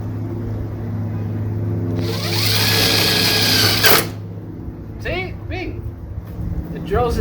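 A power drill whines steadily for about two seconds as it drives a self-drilling screw into the hood of a Jeep Wrangler Unlimited JKU, fitting a Rugged Ridge hood vent insert. Someone talks before and after the drilling.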